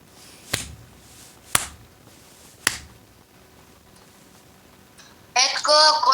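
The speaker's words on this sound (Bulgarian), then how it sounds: "Петко, кой пляска?" Three sharp, isolated hand claps ring out in a quiet room, spaced about a second apart, and then a voice starts speaking.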